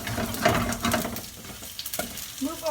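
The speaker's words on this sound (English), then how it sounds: "get yourself a spatula, and now move around the garlic" Garlic sizzles and crackles as it fries in a hot pan, pushed around with a spatula, giving steady close frying noise with a few scraping stirs throughout.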